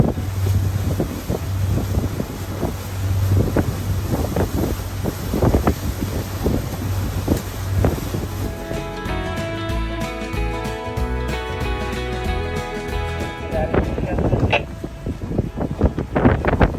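An Ocean Alexander motor yacht pulls into Jekyll Harbor, its steady engine drone rumbling under strong, constant wind buffeting the microphone throughout.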